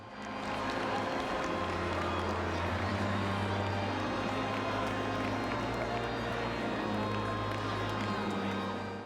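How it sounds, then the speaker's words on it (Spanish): A street crowd in Bari gives Pope Francis an ovation, with a broad roar of cheering and clapping that stays steady throughout, mixed with voices and a low, droning hum. "Lo recibieron con esta gran ovación."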